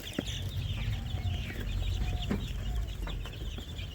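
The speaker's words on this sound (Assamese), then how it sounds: "আজি মোৰ সোণালী মুৰ্গী পোৱালিখিনি 16 নম্বৰ দিন" Sixteen-day-old Sonali chicken chicks in a brooding pen give soft, scattered clucks and cheeps close by, over a steady background hum.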